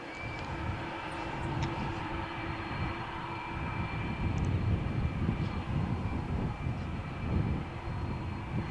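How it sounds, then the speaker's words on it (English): An Aer Lingus Airbus A330 taxis for takeoff at Malaga Airport on a stormy morning, a continuous jet engine drone with a steady whine, fairly close and sustained throughout. "Airbus A330 Aer Lingus flight from Malaga to Dublin is now taxiing for takeoff"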